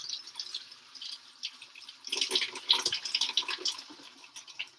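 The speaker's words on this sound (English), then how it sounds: "So now I'm just gonna rinse off some mushroom" Mushrooms are rinsed under a running kitchen tap, making a soft, steady hiss of water. The splashing grows busier as the mushrooms are moved in the stream.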